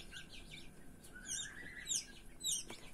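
Faint, high-pitched peeping of small chicks, a few quick chirps in a quiet room.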